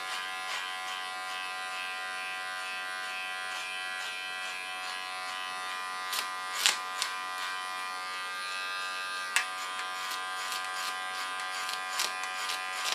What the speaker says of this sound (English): So what I do is I put it on the sharpest position, my clipper, comb the hair up and just shape it.